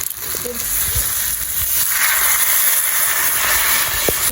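Water poured into a pan of spice paste that has been fried until the oil separates, for a Bengali fish curry; a steady loud sizzling hiss with a few small clinks.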